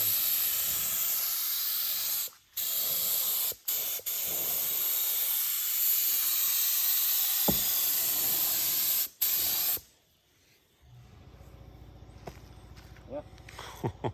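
Paint sprayer laying a second coat on the back of a house, a loud continuous pressurized hiss broken by a few brief pauses, then quieter outdoor sounds with people talking.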